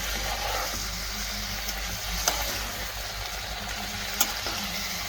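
Beef with cumin and red chilli powder is stirred in a hot frying pan for a restaurant-style sizzling dish, giving a continuous close sizzle with the scrape of the stirring and a couple of sharp clinks.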